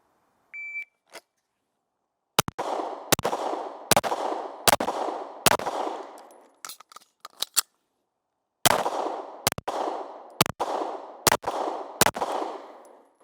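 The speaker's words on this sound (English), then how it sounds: "then we'll do a slide lock reload, fire 5 more rounds" An M18 pistol firing on a 5x5 range drill: a beep, then two strings of about five sharp, loud gunshots each with ringing decay, separated by a pause for a slide lock reload, with no talking.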